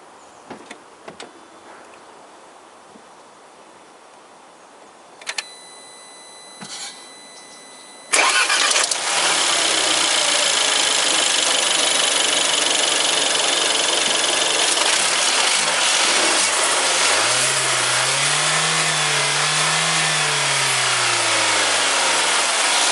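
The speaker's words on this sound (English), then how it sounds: "next we listen to this motor's sound, that how this motor starts and what is this motor engine sound" A few faint clicks, then a Mercedes-Benz CLA (2013–2019) engine cranks and catches, settling into a steady, close idle that drones on with a slight rising and falling hum.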